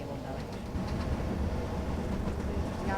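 Old tram in the OMSI 2 simulator rumbling along steadily, a continuous low mechanical drone with faint rail rattle throughout, with some talk over it.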